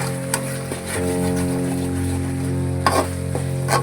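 Cloves and spices stirred in a cooking pot for chicken dum biryani, a steady loud sizzle with a low hum and a few sharp scraping clacks of the spoon against the pot.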